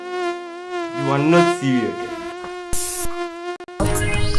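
Mosquitoes in an insecticide advert drone in a loud, steady, high-pitched buzz across the whole clip, briefly cut by bright bursts near the end, with a short spoken line heard over it.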